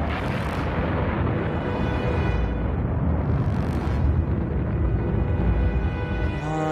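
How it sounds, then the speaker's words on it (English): Loud sustained rocket-motor roar from a spacecraft perigee kick motor firing, a dense rumbling blast sound effect from a science-fiction space TV series, continuous and surging over several seconds with no speech. "Fire a perigee kick motor, Mr. Mercer."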